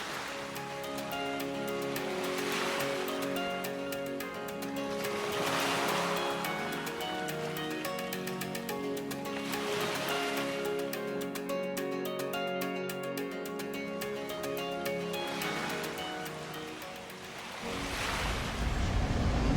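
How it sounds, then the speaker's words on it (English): Sea waves rolling onto a beach in St. Thomas, with steady surf wash that swells and recedes in slow, regular cycles and a light rush of wind over the microphone. "It's a beautiful day and the sea is sounding so soothing."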